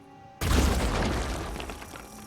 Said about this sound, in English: this guy's got a grenade, he's using it